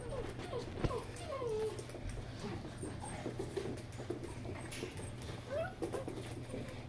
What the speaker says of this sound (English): We gotta let the mama dogs in.